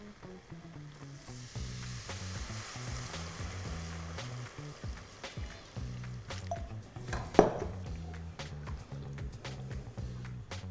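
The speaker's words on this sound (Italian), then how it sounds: "E ora si va ad aggiungere il brodo." Broth poured into a hot pan of meatballs for Königsberger Klopse gives a steady low sizzle and bubbling for the whole stretch, with a faint clink of a utensil partway through.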